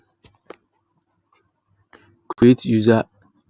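Two quick, faint mouse clicks land close together on a create account button in a quiet room, followed shortly by a brief burst of voice.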